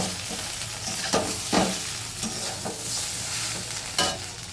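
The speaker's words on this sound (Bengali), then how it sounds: "ভালো করে নাড়িয়ে চাড়িয়ে নেব।" Gravy being stirred into a frying pan dish, with a steady sizzle underneath and a few scraping strokes of the spoon against the pan, close and moderately loud, with no talking.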